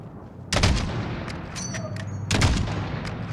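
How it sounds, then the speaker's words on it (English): Gunfire aimed at the tires of Russian APCs in Call of Duty Modern Warfare: two loud, close bursts of shots with echoing reports between them over low rumbling battle noise. "Shoot their tires!"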